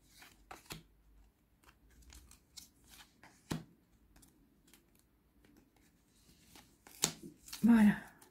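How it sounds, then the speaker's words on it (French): Tarot cards shuffled by hand before a six-card spread, quiet papery riffles and taps scattered through the clip, with a louder burst of handling near the end. "Allez, on va aller tirer 6 cartes."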